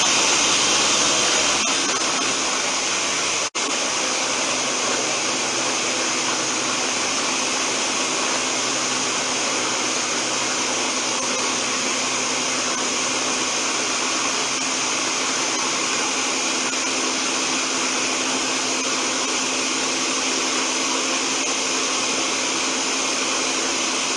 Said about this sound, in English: close it, and blend again.